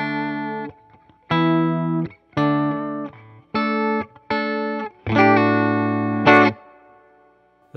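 An Epiphone ES-339 electric guitar with Seymour Duncan pickups plays a series of sustained distorted chords through an amp, dry signal, each ringing briefly before stopping, with short gaps between them.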